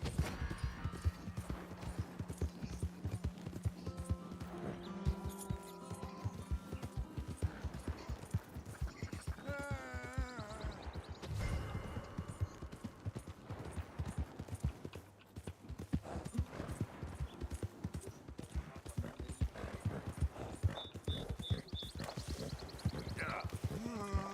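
Horse hooves clip-clop steadily in Red Dead Redemption 2, a repeating rhythm of hoof strikes mixed into continuous game sound with music and other effects over the whole stretch.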